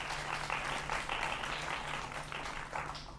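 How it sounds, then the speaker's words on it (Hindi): Enthusiastic applause from a studio audience on a televised debate show, a dense, steady wash of many hands clapping at moderate volume with no speech over it. "भगवान की जोरदार तालियां इस बात पर जी।"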